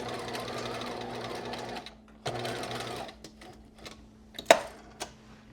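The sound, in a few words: sewing machine back stitching knit skirt seam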